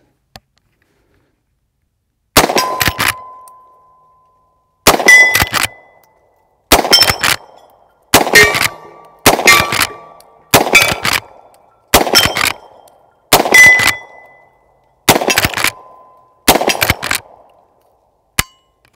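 A Marlin 1894 lever-action rifle fires .44 Special rounds in Magnum cases at steel targets, about ten sharp shots, each followed by a ringing metallic clang and short echo, with pauses of about two seconds between them.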